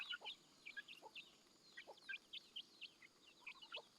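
Village chickens on a Thai farm cluck and peep in short, repeated bursts, a dozen or more quick calls scattered over a few seconds, faint against a quiet background with no talking.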